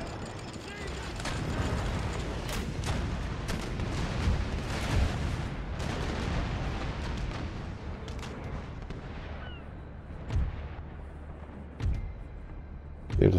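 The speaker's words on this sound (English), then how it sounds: "Here's the firing." Cannon fire rolls through a naval battle in Empire: Total War, a dense run of booming shots with a few sharper isolated blasts near the end, while someone talks over it.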